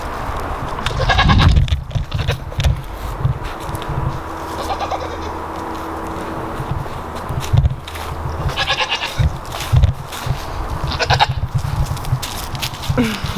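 Goats bleat repeatedly in a farm goat pen, loud and close, with overlapping calls over steady barnyard background noise and no talking.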